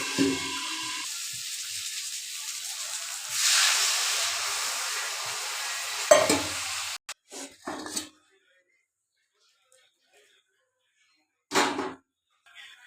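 Ground cumin paste with two dried red chilies, turmeric, salt and a splash of water fries in a pan, giving a close sizzling hiss that swells and then fades, followed by a few sharp utensil clatters amid near silence.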